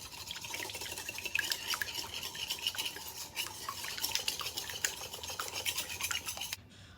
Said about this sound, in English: we're gonna whisk the wet ingredients together until they're well blended